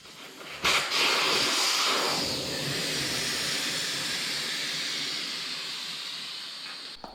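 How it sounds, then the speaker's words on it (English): Air rushes out of a Kawasaki KLR 650 front tire inner tube through the opened valve as a loud, steady hiss. It starts abruptly, holds for several seconds close to the microphone, then slowly fades and cuts off. "Move the valve core to release the air in the tube."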